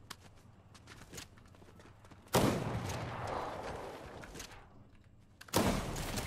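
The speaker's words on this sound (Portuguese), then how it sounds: "Um sniper, um sniper" In the Fortnite video game, two loud, sharp sniper rifle blasts crack out a few seconds apart, each leaving a long rumbling tail, while quieter footsteps and small clicks fill the gaps.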